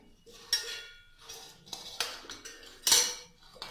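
Cut watermelon pieces dropped into a mixer jar, giving several distinct clattering knocks and clinks spaced across a few seconds, close up with no speech.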